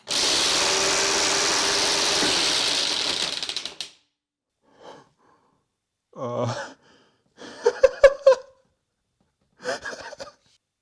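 Motor of a wooden rubber band minigun spinning up and firing: a loud, steady mechanical whir for about four seconds that cuts off abruptly, followed by silence and a few short scattered bursts of sound.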